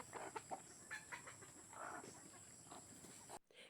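Hens cluck softly in short, irregular bursts, quiet and close, with a faint high hum in the background.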